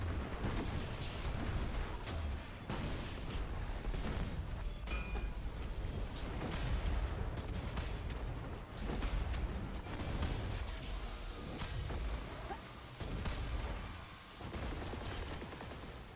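Dense gunfire and explosions in the video game Destiny during a Fallen SABER strike with a solar sniper weapon, heard as a loud, continuous barrage of shots and blasts that barely lets up.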